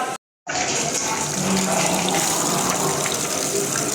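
Water runs steadily from a kitchen tap into a vessel after a brief silence, a loud, even gush that keeps going without a break.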